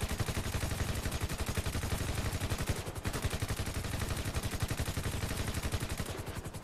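Rapid automatic gunfire in Grand Theft Auto V, a dense, steady stream of loud shots that runs unbroken for several seconds with only a brief hitch midway.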